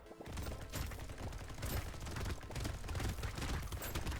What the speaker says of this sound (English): this chain gun is so good because we have negative 200 engineering. So it will never do damage, but it attacks constantly